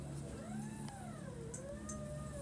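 An old boat's autopilot pump running under the deck near the rudder, giving a wavering, rising and falling whine like a sick cat's cry over a low hum, with a couple of faint clicks.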